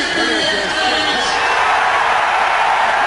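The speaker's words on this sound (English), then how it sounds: "Crowd is alive." A stadium crowd cheering at a Liberty Bowl football game, Orlando Rage at Memphis Maniax: a loud, steady roar of many voices fills the whole clip, with a commentator's voice faint underneath at the start.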